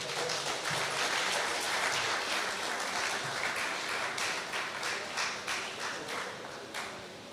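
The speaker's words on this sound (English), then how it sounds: "Let's get a nice round of applause for Mr. George Alexander" Applause at an awards night for Mr. George Alexander, a broad, sustained round of clapping from a large audience that stays full at first and then gradually tapers off, somewhat distant and soft overall.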